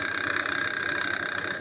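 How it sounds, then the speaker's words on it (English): Electric alarm bell ringing continuously, a loud, close, rapid metallic trill with piercing high tones, sustained and alone. "This bell makes a sound like this."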